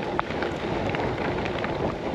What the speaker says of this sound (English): Getting a little bit of rain.